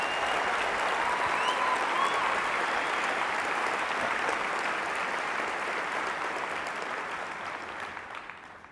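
An audience at SXSW 2013 applauds the MakerBot team with steady, dense clapping filling the room, holding strong before thinning and fading toward the end.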